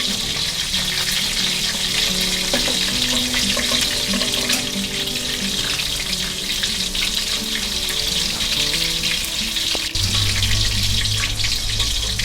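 Steady, loud crackling sizzle of chicken deep frying in hot oil, continuous throughout with a low hum joining near the end.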